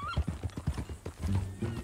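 Horse hooves clip-clopping with a whinny in Red Dead Redemption, a quick run of hoofbeats followed by a rough neigh near the end, close and moderately loud.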